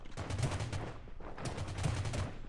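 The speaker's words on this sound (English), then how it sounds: "There's already gunshots being fired." Gunfire in the Rules of Survival battle royale tournament game comes as two rapid bursts of automatic shots, loud and close, with no talk over them.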